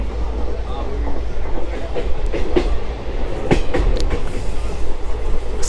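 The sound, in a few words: local train from Delhi to Gurugram running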